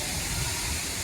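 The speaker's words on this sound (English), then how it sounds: "The waterfall." A waterfall at Giba Gorge rushes in a loud, steady roar of falling water, broad and hissing with no break, heard up close.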